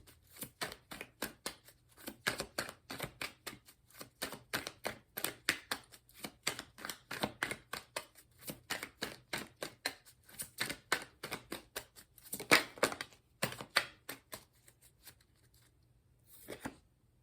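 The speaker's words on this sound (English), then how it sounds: "after all of that shuffling" Tarot cards shuffled by hand in a quiet room, a long run of quick, close riffling and slapping bursts with short pauses, faint and without talk.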